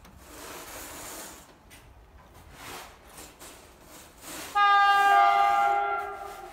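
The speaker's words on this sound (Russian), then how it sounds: "Из Высловской приближается скоростной поезд." An Allegro high-speed electric train rushes in with building rail noise, then a loud horn blares for about two seconds near the end.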